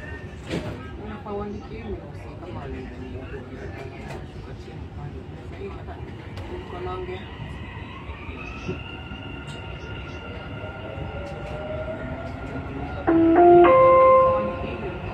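A Dubai Metro train in motion, heard from inside the car, with a steady rumble of wheels and the running noise of the car. A rising electric motor whine joins it, and a loud chime near the end.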